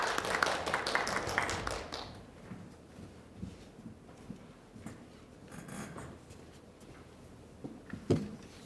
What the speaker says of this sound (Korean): 박수로 맞아주시면 좋겠습니다.